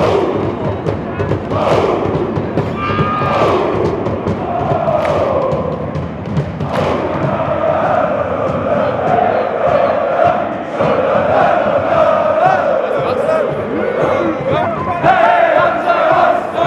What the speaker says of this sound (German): Ausgelassener Jubel auf den Tribünen und auf dem Rasen.